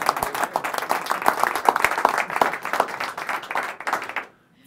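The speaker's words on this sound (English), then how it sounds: "Give him a big round of applause." Audience applause after a magic trick at a live underground magic show, a dense burst of many hands clapping at steady volume for about four seconds before cutting off abruptly into silence.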